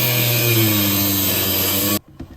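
An electric power tool cuts steadily through an old through-hull fitting nut aboard a boat, a loud continuous buzzing whine lasting about two seconds before cutting off abruptly, followed by a few faint clunks.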